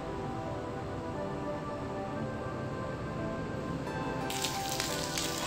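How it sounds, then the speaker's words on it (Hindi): Malai boti skewers frying in hot oil, a dense, steady sizzle and crackle that stays loud and close throughout, with a brighter burst of spitting near the end. "सारे स्कूवर्स मैंने रेडी कर लिए हैं मलाई बोटी के और अब मैं इसे फ्राई करूंगी।"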